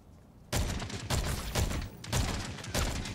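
Rapid bursts of gunfire in a PvP shooter game ring out close and loud after a quiet start, several volleys of shots following one another over a few seconds with brief gaps between them.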